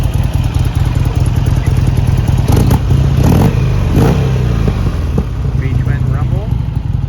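A 2009 Buell XB12SCG Lightning V-twin with a Jardine exhaust rumbles close by in a loud, uneven lope, with a few brief throttle blips partway through.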